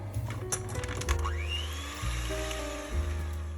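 An electric mixer whips cream with sugar, giving a continuous close motor whir whose pitch shifts as the speed changes, with the beaters churning steadily.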